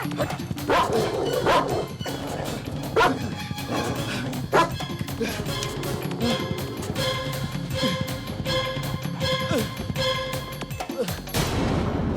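Dog barks and yips from a Hindi film scene in the rain, repeated sharp bursts over a busy, dense background of music and rain-like noise, fairly close and loud throughout.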